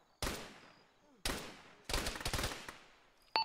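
Gunfire in a military video game: three sharp, loud reports, each with a long decaying echo, the last one breaking into a rapid rattling burst, followed by a final crack.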